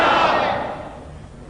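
A crowd at a Sunni conference shouts the slogan "Naara-e-Tahqeeq" in one loud collective roar that fades away over about a second.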